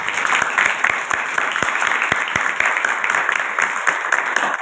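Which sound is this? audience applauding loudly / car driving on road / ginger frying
audience applauding loudly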